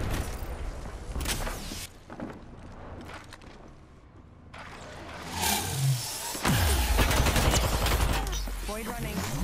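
R-301 rifle fire in Apex Legends comes in bursts of rapid shots mixed with game effects and engine-like rumble across the battle, with players talking over it.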